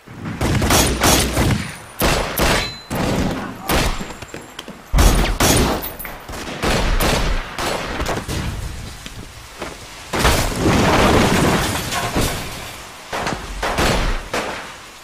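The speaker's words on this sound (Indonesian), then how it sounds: "hingga kemudian baku tembak pun kembali terjadi" Gunfire in a film shootout, with rapid bursts of loud shots and sharp cracks over several seconds, some echoing booms and short pauses between volleys.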